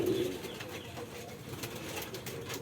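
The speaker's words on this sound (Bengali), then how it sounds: "আমার সামনে যে কবুতরটি দেখতেছেন এটা হলো একটা গিরিবাস কবুতর" A Giribaj pigeon coos softly and steadily, a low murmuring call that carries through a rooftop loft setting with a faint wash of background noise.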